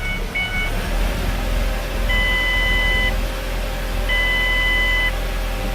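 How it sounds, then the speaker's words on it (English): Repeated electronic warning chimes from a Ford Escape Hybrid with its rear hatch open, evenly spaced steady tones about a second long, with a low engine idle underneath. "The car's beeping at us because we've got the rear hatch open"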